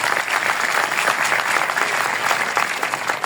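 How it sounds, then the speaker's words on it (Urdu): An indoor audience gives a sustained round of clapping at a religious gathering, dense and loud throughout without pause, with no voices over it. "اپنے لیے بھرپور تالیاں بجائیں"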